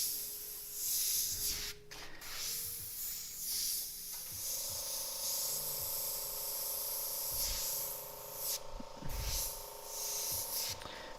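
Airbrush sprays paint onto a T-shirt in bursts, a steady close hiss that stops and starts several times, with faint rubbing and handling sounds between passes.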